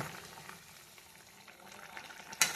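Quiet, steady simmering and bubbling of a fish curry with potatoes cooking in a pan, with a sharper clatter near the end.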